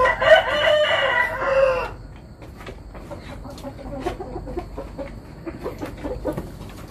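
A rooster crows loudly and close for about two seconds, followed by softer clucking and scattered farmyard noises.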